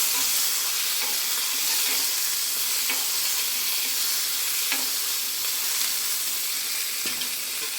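Tomatoes cook down with salt in a frying pan, giving a steady, fairly loud sizzle and hiss with occasional soft stirring clicks and no voices.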